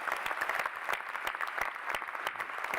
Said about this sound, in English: please join me in applauding Brandon Yim